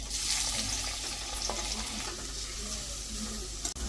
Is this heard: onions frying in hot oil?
yes